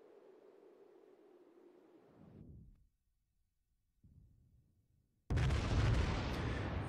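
In the World of Warships game, the Myogi battleship's guns leave a fading low rumble and then a lull. A sudden loud, close blast bursts in and roars on to the end.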